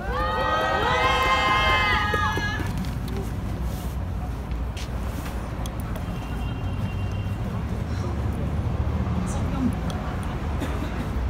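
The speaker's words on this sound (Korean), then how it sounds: "큰 박수 보내주세요." Cheering and applause rise from a crowd at an outdoor press conference in front of the Japanese embassy. A high, shrill vocal shout stands out in the first seconds, then a broad murmur of clapping and voices continues.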